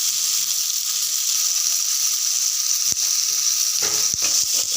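Coriander powder and chili powder fry in a pan for a chana dal and cauliflower masala, giving a steady, loud, close sizzle, with a few sharp clicks and knocks near the end.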